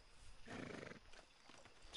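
A brief horse whinny in the video game Red Dead Redemption 2, fairly quiet, with faint hoof movement around it.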